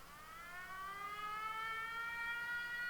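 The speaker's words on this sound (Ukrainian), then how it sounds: "у мене залунала повітряна тривога" An air raid siren sounds during a wartime alert in Ukraine, a steady rising wail heard from a distance, faint but continuous, with no one talking.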